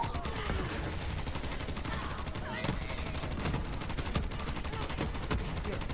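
Rapid gunfire from the gunner seat of a bear mech in the video game Borderlands 3, dense repeated bursts of shots layered over game noise and a busy mix.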